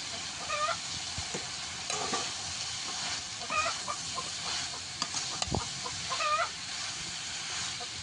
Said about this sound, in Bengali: দিয়ে ভালো করে নেড়ে চেড়ে নিতে হবে।